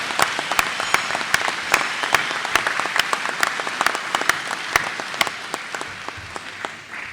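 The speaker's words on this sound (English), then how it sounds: "Let's give those guys a big round of applause." An audience applauds at a technical institute graduation ceremony, with steady, dense clapping from a crowd that fades slightly toward the end.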